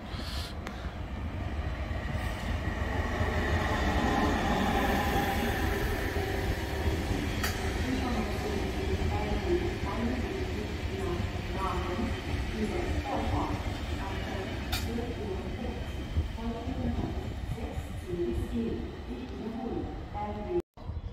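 Trains rumbling through Bielefeld main station, a steady loud rolling rail noise with wheel clatter and occasional sharp squeals and clanks, continuing throughout.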